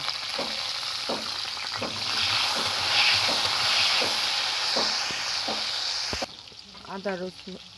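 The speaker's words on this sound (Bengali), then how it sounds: "কড়াই আমি আরেকটু সর্ষের তেল দেবো। আর ফোড়নে আমি দেবো গোটা জিরে। জিরেটা আমি খুব ভালো করে ভেজে নেব।" Whole cumin and chopped tomatoes fry in mustard oil in a wok, giving a loud, close, hissing sizzle with repeated stirring knocks, which cuts off near the end as a voice briefly speaks.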